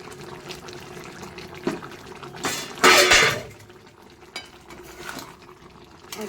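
A spoon stirs ghee in a cooking pot, with light metallic scrapes and clinks and one louder rattling swirl midway, close and otherwise quiet.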